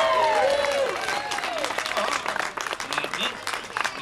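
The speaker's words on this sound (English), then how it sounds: "Let's give them a round of applause." An audience at a Disney Captain Jack Sparrow show claps and cheers in a dense, sustained round of applause. The crowd noise is loud and fills the whole moment, with some voices and whoops mixed in.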